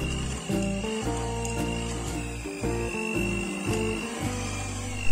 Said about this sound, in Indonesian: Kemudian uleni kembali menggunakan mixer dengan speed 1